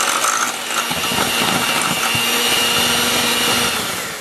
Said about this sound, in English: Start out with your mixer on low, and then increase your speed so you don't wear the flour